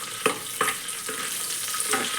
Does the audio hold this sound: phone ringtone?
no